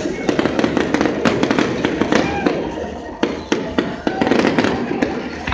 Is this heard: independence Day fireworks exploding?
yes